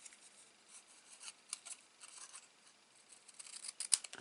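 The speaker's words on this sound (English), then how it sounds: "So just pop your scissors in" Quiet crisp snipping and rasping of scissors through stiff card, a run of short irregular cuts building to a sharper snip near the end.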